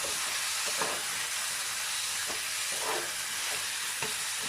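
Mutton pieces sauté with spices in a pan for uppu kari, making a loud, continuous hissing sizzle broken by a few brief stirring scrapes.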